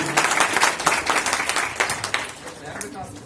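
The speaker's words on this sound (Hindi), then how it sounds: "जोरदार तालियां रावीन भैया के लिए।" Applause for Ravindra Gautam at a public speech event about city development, a crowd clapping steadily and fairly close for a few seconds, with some voices mixed in.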